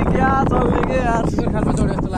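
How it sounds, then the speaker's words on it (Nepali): Strong wind gusts outdoors at Nagarkot, with heavy low rumbling buffeting across the microphone and a person talking over it. "हावा चाहिँ क्या चल्ने के"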